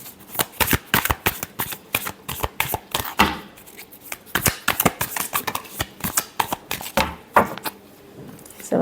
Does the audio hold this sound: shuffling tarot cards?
yes